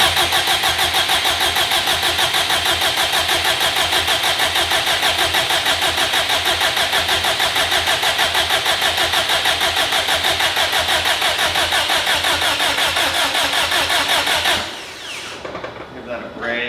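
A 2005 Subaru WRX STI engine cranking over in flood mode with the accelerator floored, a loud, fast, even starter churn running for about fifteen seconds before cutting off abruptly.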